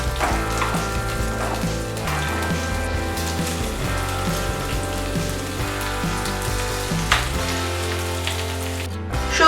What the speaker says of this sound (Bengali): এবার এটাকে আমি 2 থেকে 3 মিনিট ফ্রাই করব